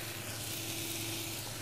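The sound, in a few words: mushrooms frying in a pan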